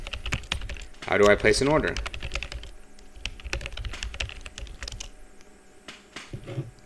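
Computer keyboard keys clatter in quick, close runs of typing, with someone speaking briefly near the start.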